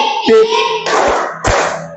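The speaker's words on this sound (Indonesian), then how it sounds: "Sekarang kita akan melakukan tepuk motor 1, 2, 3." A sixth-grade classroom of children performs the 'tepuk motor' clapping game: a few sharp, close hand claps and thumps in quick bursts, with brief broadband swells between them and faint voices.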